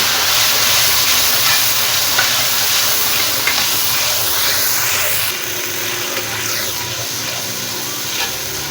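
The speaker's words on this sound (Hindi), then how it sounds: "अब शामिल कर देंगे लहसुन अदरक का पेस्ट, उसको ब्राउन कर लेते हैं।" Garlic ginger paste and tomato paste sizzle in a hot pan, a loud continuous hiss that eases slightly midway and carries on steadily to the end.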